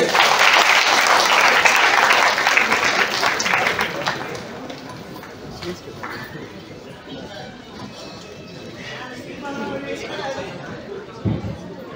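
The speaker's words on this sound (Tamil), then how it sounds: "மதன் அவர்கள் உங்களுடைய கைத்தட்டோட ஒரு பேச வராரு." An audience at a university debate event claps loudly at first, the applause thinning out after a few seconds into scattered claps and crowd chatter.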